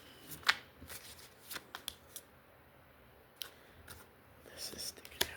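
Tarot cards shuffled and drawn by hand, with close, soft riffling and sharp flicks in irregular bursts and quiet hiss between them.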